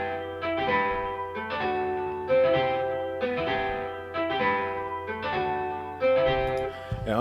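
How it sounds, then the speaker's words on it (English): Strummed nylon-string guitar plugin melody in FL Studio, played at normal time without halftime, with steady repeated chord strums over a low sustained bass, no voices. "The initial melody without halftime sounds like this with just me strumming the notes the way I did."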